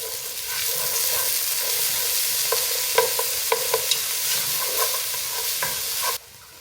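Garlic sizzles steadily in a warm pan, a continuous frying hiss with a few light clicks and stirring taps, close and alone, before cutting off abruptly near the end.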